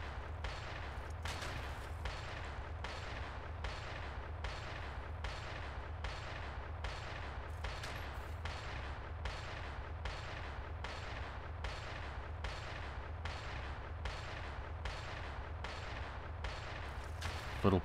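A rifle fires in rapid, evenly spaced shots in the video game Factorio with the Krastorio 2 mod, a long regular series of sharp reports over a constant low background hum.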